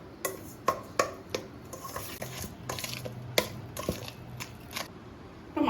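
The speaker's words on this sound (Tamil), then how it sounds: "இதை வந்து மிக்ஸ் பண்ணிக்கலாம்." Masala marinade for a whole chicken is mixed in a bowl, giving soft wet squelching and rubbing with several sharp clicks and taps against the bowl, fairly quiet and close, no speech.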